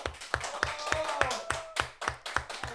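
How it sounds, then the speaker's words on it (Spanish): A small podcast studio audience welcomes a guest with applause: a few people clap in an even, steady beat at close range, with faint voices underneath. "Carlos, un aplauso, por favor."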